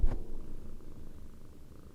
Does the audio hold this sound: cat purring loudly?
yes